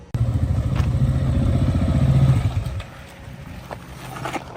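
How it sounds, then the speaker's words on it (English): A 2010 KTM 690 Enduro R single-cylinder motorcycle idling close by, a loud steady low thumping engine note for under three seconds before it cuts off, leaving quieter background noise. "How do you like this motorcycle?"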